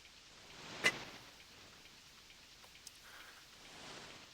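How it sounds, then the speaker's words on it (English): Soft, steady rain patters throughout the SNES game TNN Bass Tournament of Champions, a faint hiss with one brief sharp tick near the start and a smaller one later. "It's raining, but it's still warm."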